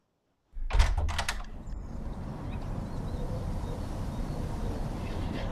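A front door in a radio drama gives a few quick knocking thuds at the start, followed by a steady low rumbling ambience.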